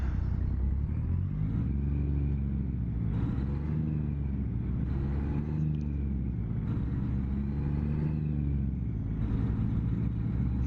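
A Kenworth truck engine in American Truck Simulator makes a steady low diesel rumble that rises and falls gently through gear changes, continuous and close with no talk.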